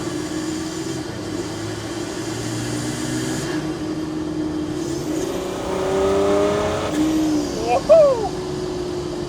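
Land Rover Defender driven hard, its engine droning steadily and then climbing in a rising rev near the end, with a shout of excitement over it.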